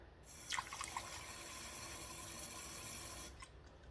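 Water pours steadily into a pot of rice in a home kitchen, a soft continuous splashing stream lasting a few seconds, close and fairly quiet, with a couple of small clinks at the start.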